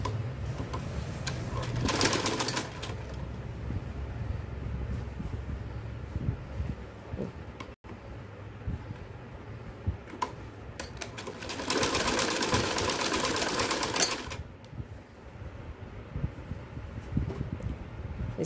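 A sewing machine stitching a salwar seam at home runs in two close, loud bursts, one short and one longer, with quieter handling and rustling of fabric between them.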